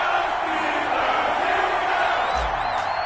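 Stadium crowd at an NFL game between the Cleveland Browns and Pittsburgh Steelers in an EA Sports football video game roars steadily and loudly, with whoops and a brief whistle near the end.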